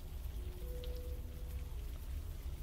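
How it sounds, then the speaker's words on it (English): Steady rain falls in the video game Unavowed, a soft, even hiss of droplets on surfaces that continues quietly under low background tones with no talking. "But it's raining!"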